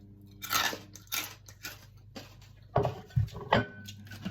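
Crunchy homemade fried pork rind being chewed up close, with a few crisp bites and crackling crunches spaced irregularly through a quiet room, loudest near the end.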